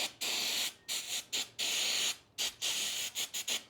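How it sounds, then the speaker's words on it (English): A can of electronics cleaner hisses in a series of short and longer bursts onto a Duramax diesel's airflow sensor, close and fairly loud, with brief silent gaps between each blast. "I've got this electronics cleaner, and I'm going to just spray this off"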